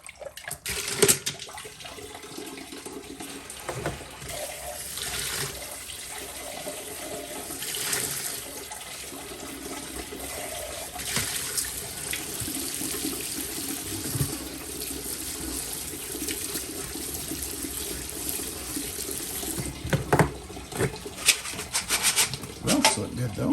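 Water sloshes and splashes in a tumbler barrel as tumbled obsidian stones are rinsed, a steady close wash of swirling water with occasional louder splashes over twenty-odd seconds.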